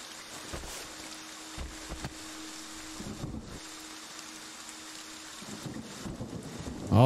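Rain and rumbling thunder in the Friday the 13th video game form a faint, steady wash, with low rumbles swelling in a few places.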